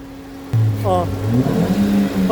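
A car engine, checked for overheating, is revved in short bursts, its loud, close idle rising and falling, while someone talks over it.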